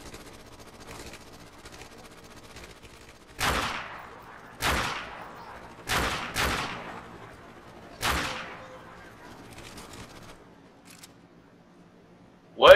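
Gunfire in Call of Duty Modern Warfare Remastered comes as five sharp, separate shots spaced a second or two apart over a quiet background, with one more sudden burst at the very end.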